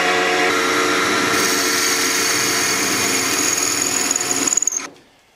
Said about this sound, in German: die Klötzchen bohre ich jetzt durch